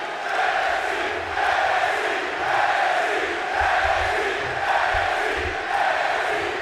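Crowd at a wrestling event cheering and chanting in rolling waves, a broad steady roar with rhythmic swells throughout.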